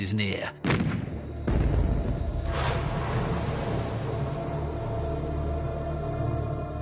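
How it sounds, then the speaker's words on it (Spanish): Artillery fire booms at the end of a war, a heavy low rumble with a sharp blast early on, then sustained rolling gunfire and a dense low roar throughout. "los disparos de la artillería les recuerdan a todos que el fin está cerca"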